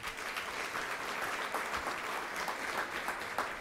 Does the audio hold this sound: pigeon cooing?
no